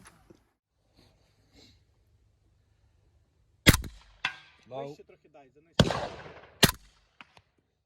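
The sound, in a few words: gunshots from a firearm being fired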